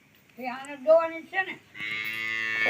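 A buffalo lows at milking time in a village, a few drawn-out, harmonic calls, close by, followed by a steadier nasal bellow that holds to the end.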